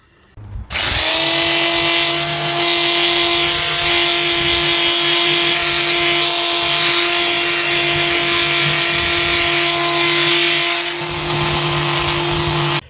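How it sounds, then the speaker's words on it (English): A loud power sander whines steadily against a metal alternator cover bracket on a Subaru, stripping paint to bare metal, a constant high-pitched grinding drone that starts abruptly and cuts off at the end. "after a good long time of sanding down, that's the alternator cover back to bare metal"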